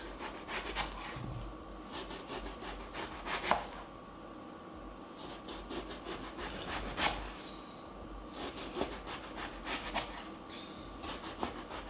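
A knife cuts an eggplant into slices about an inch thick on a cutting board. The close, crisp strokes come in short clustered bursts separated by quieter pauses.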